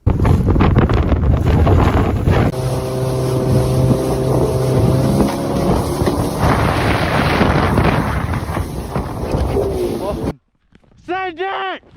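A speeding motorboat roars loudly and close, its engine whine shifting pitch over heavy wind buffeting on the microphone, then cuts off abruptly, followed by a shout.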